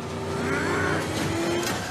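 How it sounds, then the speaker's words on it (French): The Batmobile from a Batman film revs its engine in the streets of Paris, giving a loud, steady, rising roar with a droning tone that fills the whole stretch. "La Batmobile du film, la voici, il y a quelques jours dans les rues de Paris."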